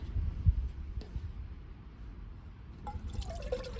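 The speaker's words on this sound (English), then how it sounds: "We'll put the water in." Water poured into a pot on a small portable gas stove inside a Toyota Sienna Hybrid van, a soft close splash and trickle with a few drips, lasting a few seconds.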